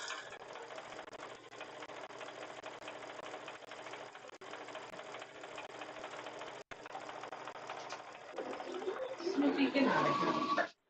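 A sewing machine stitches jelly roll quilt strips in a steady mechanical whir, its even rhythm running under some voice and ending in a louder burst of handling near the end.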